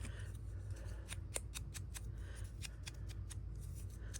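Scissors snip through paper for a bird journal in a series of quick, crisp cuts at an irregular rhythm, close but faint over a low steady background hum.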